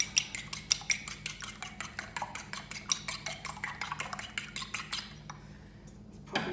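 Eggs being beaten in a bowl for cranberry Christmas pudding, a fast run of sharp rhythmic clinks of a fork or whisk against the bowl, close and clear, slowing and stopping near the end.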